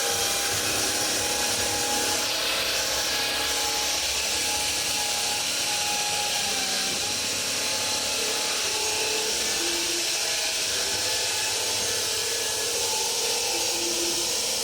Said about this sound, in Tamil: இது வந்து கட்டிங் மிஷின் போல், ரெண்டு பக்கமும் சைஸாக கட் பண்ணுறதுக்கு எடுத்து வச்சு கட் பண்ணுறாங்க